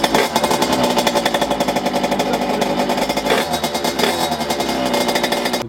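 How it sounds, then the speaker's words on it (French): A Derbi DRD Pro motorcycle with a poorly tuned carburetor in humid weather runs steadily close by, its engine a loud, rapid, rattling putter that holds an even idle throughout, with slight surges in pace and no voices. "Je veux voir juste si la moto elle démarre."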